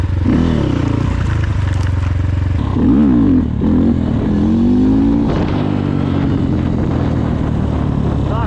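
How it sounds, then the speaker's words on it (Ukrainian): A KOVI Lite 300 motorcycle lifted onto its rear wheel revs loudly and close, its engine pitch swooping up and down in repeated surges before holding a rough, steady drone. "Дуже непривично на заднє підірвати цей мотоцикл"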